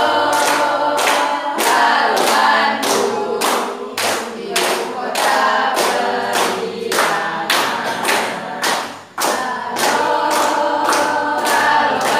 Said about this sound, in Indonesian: supaya semangat kita iringi dengan tepuk tangan